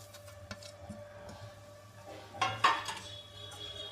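Spoon stirring a pot on low flame as milk and other ingredients are mixed into a Gujarati jadariyu, giving faint scattered clinks and scrapes of utensil on metal, with a couple of louder knocks near the middle.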